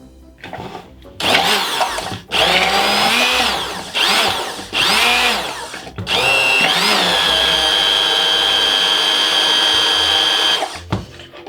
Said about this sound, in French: C'est ce qu'on appelle tout simplement un mixeur plongeant.